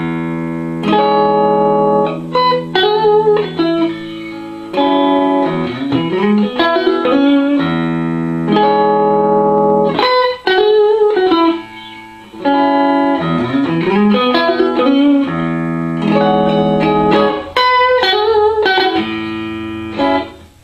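A homemade electric guitar rings out through its pickup in plucked notes and strummed chords, twangy and amplified, with rising slides and sustained tones, loud and close throughout.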